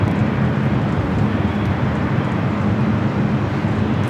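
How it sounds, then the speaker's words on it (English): Singapore Airlines jet taking off at LAX, a loud steady low jet roar that holds evenly throughout with no voices. "Singapore heading up for a north side at takeoff"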